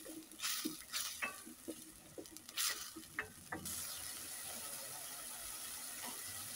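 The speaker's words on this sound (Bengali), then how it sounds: "তো মশলাটাকে আরও কিছুক্ষণ কষিয়ে নেব আমি।" A spoon stirs masala with turmeric, salt and coriander powder in oil for a shrimp and bottle gourd curry. Brisk, close scraping comes in quick bursts, then settles into a smooth, continuous sizzle. No voices.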